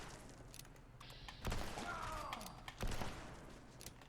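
Pistol gunfire in the video game Fallout 76: two sharp loud shots about a second and a half apart, each with a short decaying tail, over faint game ambience and mechanical clicks.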